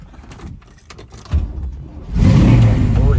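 A 1968 Chevrolet Camaro with dual exhaust, a 12-bolt posi rear end and a non-working gas gauge is handled with clicks and rustles, then its engine catches and settles into a loud, steady rumble close by.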